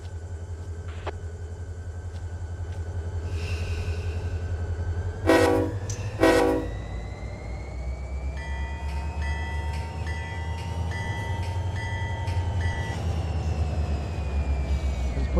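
Run 8 train simulator locomotive rumbles steadily in a rail yard while two short horn blasts sound, followed by a longer sequence of layered horn tones over the engine drone.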